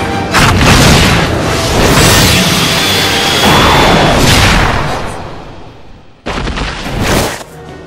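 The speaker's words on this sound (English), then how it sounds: "The Kyurem Cannon." A Kyurem Cannon attack from a Pokémon animation lands as a loud, sustained booming blast that rumbles for about six seconds. It cuts off abruptly, then a second explosive burst follows.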